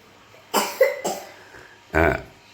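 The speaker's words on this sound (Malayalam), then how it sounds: "ചുമ വന്ന ആൾക്ക്" Three sharp coughs, close and loud: two quick ones near each other, then a pause and a third, heavier cough. No talking.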